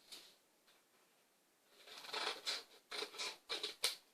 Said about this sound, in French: Donc, ma paire de ciseaux qui est là.